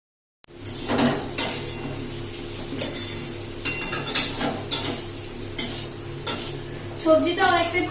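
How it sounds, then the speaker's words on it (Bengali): Mixed vegetables frying in hot oil in a wok with salt and turmeric for khichuri, a close sizzling hiss broken by repeated scraping stirs and light clanks of a spatula against the pan. "এবার আমি সমস্ত সবজিগুলো একটু ভেজে নেব, লবণ আর হলুদ দিয়ে হালকা করে একটু ফ্রাই করে নেব।"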